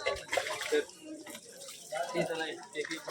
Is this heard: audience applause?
no